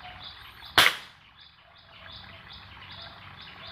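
A sniper air rifle fires at a monitor lizard during pest hunting, one sharp loud crack standing out briefly over a steady background of outdoor insect and bird chirping.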